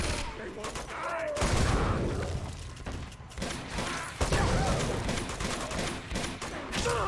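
Gunfire from the video game Uncharted 2: Among Thieves Remastered: a loud, dense fusillade of rapid shots and bursts running through the whole stretch, with crashing impacts mixed in.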